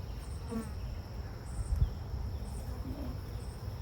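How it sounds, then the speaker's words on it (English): Bees buzzing at an open hive during a mid-June inspection of new hives, a steady low drone with a closer, louder bee passing near the middle, no talking. "this right here, the feisty bee"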